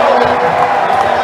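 Basketball crowd at a West Adelaide home game cheering loudly as a dense, continuous roar of voices, short and close.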